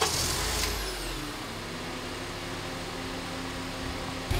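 A car's engine starts after a push-button press: a brief cranking burst and thump at the start, then a steady idle hum with a faint whine underneath.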